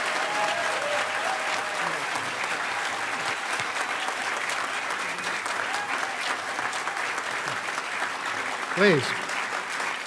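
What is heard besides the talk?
conference audience applause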